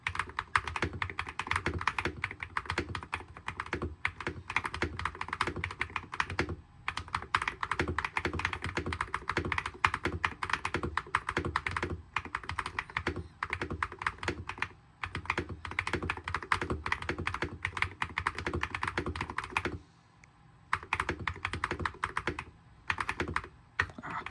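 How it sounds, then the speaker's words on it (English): Someone types steadily on an AULA AG75 Pro wired gaming keyboard, producing a continuous close stream of quick clacky keystrokes with a brief pause near the end and no speech. "Okay, so now I'm going to be doing a little bit of a typing test. Not going to be talking, just so you guys could hear the keys properly."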